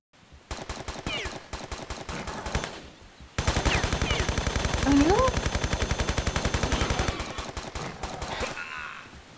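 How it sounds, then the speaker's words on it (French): Rapid machine-gun fire aimed at the player in Tomb Raider III, loud dense bursts of evenly spaced shots that swell into a long sustained volley before tapering, with a brief vocal sound partway through. "Mais il me tire dessus. Il me tire dessus, le mec."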